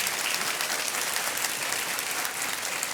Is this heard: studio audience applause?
yes